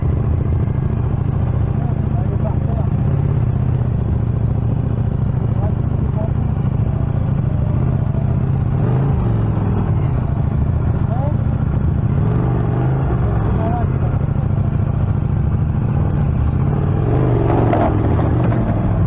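A brand-new motorcycle with 26 km on it rumbles at low speed as it is ridden into a garage for the night, a loud close engine idle and putter with clatter throughout and brief revs near the end.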